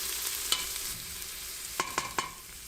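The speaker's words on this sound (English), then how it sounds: "My onions are sauteed, adding some chopped green peppers from the freezer." Onions and chopped frozen green peppers sautéing in a pan, a soft continuous sizzle with a few sharp stirring clicks near the end, close and quiet, no voices.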